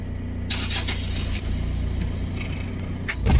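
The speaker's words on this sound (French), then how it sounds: "c'est un autre véhicule d'à côté qui vient de démarrer" A car engine idles steadily nearby, with a few brief clicks and knocks, rising slightly at the end as it revs.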